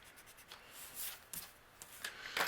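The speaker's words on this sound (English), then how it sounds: "I'm actually going to erase my measurements here." A pencil eraser rubs across card paper to remove pencil measurements, quick soft scrubbing strokes in short bursts, faint and close with no talking.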